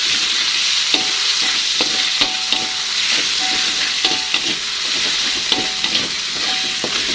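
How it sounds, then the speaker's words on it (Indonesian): Seblak spice paste sizzles and crackles in a little hot oil, a constant bright frying hiss broken by scraping stir strokes and small pops, with no talking. "Nah, minyaknya udah panas, langsung aja kita tumis bumbunya."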